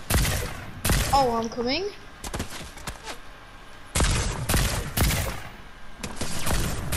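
Fortnite gunfire crackles in several loud bursts of rapid shots, separated by quieter gaps, while a player talks over the action.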